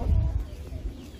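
A rooster that has just snatched a centipede gives low, throaty clucks close by amid a busy flock.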